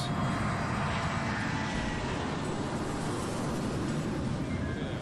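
Constant, loud, deep roar of a Boeing 757 private jet with Rolls-Royce engines, a heavy broadband rumble that holds steady throughout without breaks or voices.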